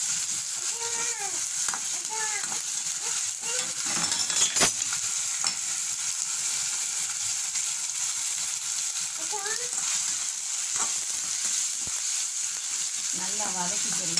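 Garlic and ginger sauté in a pan with a constant loud sizzle, broken by occasional spatula taps and scrapes; brief speech-like voices surface at a few moments over the frying.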